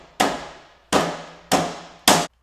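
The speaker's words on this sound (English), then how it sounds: "you're gonna start hammering the nails in." Four sharp hammer strikes on nails driven into log cross rails of a kayak rack, each ringing briefly and decaying, spaced unevenly but close together.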